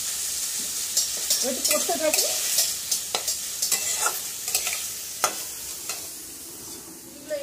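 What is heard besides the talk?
chicken frying with chicken masala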